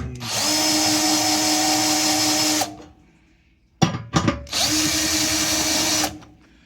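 A power drill tightening a screw on a trash can pedal whirs loudly at a steady pitch for a few seconds, stops, gives a couple of short bursts, then runs steadily again before cutting off.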